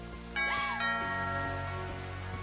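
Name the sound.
doorbell ringing in video game What Remains of Edith Finch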